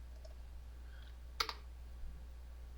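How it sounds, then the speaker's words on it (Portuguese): A single sharp keyboard keypress clicks once in a quiet room, followed by a softer second tap, then near silence. "Cliquei no Enter."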